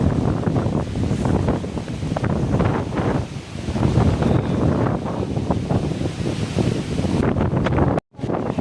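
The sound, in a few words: strong wind on Nandi Hills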